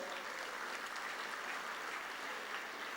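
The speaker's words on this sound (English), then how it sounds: "Give them a round of applause." Dense, steady applause from a crowd at a Deepavali open house event, welcoming a group of ambassadors; many hands clapping evenly and continuously, moderately loud, with no talk over it.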